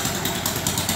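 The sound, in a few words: Honda Supra X125 motorcycle engine running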